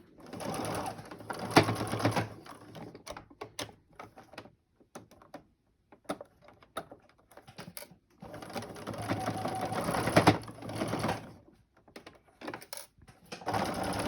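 A sewing machine stitches fabric for a face mask in two bursts of steady whirring, each several seconds long. Short pauses between them are filled with clicks and handling noises, and the sound is close and fairly quiet.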